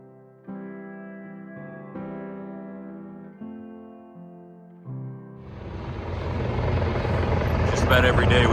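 Helicopters passing overhead in a North Carolina disaster response zone near a landing area; after a stretch of steady tonal music, a loud rotor roar rises and swells close by.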